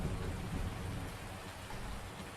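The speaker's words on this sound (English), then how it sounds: "oh, it's ready, but it's raining" Steady, even rain in Farming Simulator 19 patters over a farm, a dense continuous hiss with soft low rumble underneath, no voices.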